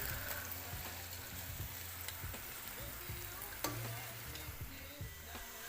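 Onions browning in a pan over medium heat for chicken kofta curry, a steady close sizzle and crackle with brief stirring scrapes, no talk.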